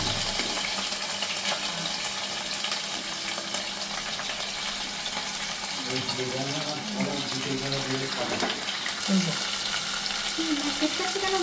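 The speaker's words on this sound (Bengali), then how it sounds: "সেই মাছগুলোকে আমি এখানে ভাজতে দিয়ে দেবো" Fish fry in a pan on a gas stove with a continuous crackling sizzle, and a voice talks over the sizzle in the second half.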